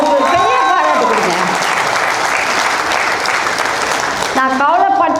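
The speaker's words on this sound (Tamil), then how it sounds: "அவருக்கு ஒரு பெரிய பாராட்டு கொடுங்க" An audience at a guest speaker event bursts into sustained, loud applause, dense clapping filling the room while someone speaks over the start and end of it.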